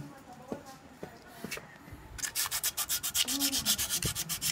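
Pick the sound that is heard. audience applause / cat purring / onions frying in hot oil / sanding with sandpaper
sanding with sandpaper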